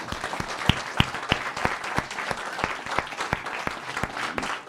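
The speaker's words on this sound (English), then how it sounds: "I really want you to applaud him" A modest gathering at a Sunday temple program in Coventry claps, sparse and distinct hand claps ringing out close by with a steady, somewhat rhythmic pattern.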